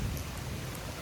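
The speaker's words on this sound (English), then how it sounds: "And now it's raining. It's about to rain pretty good" Rain coming down at an oak tree clearing site for new home construction in Lutz, Florida, a steady dense hiss with a low rumble and no voices.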